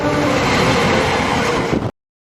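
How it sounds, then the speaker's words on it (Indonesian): A train rushes past at close range, a dense, loud broadband roar with steady rail rumble that holds for nearly two seconds before cutting off abruptly. "Kereta mau lewat loh."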